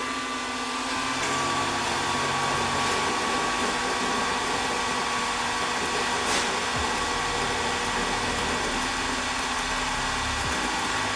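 A Wizmaker laser cutter works through laminate flooring with a steady whirring hum and faint extraction noise, with a brief clicking partway through.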